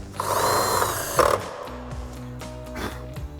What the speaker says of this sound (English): we're going to drill through that other hole into our battery tray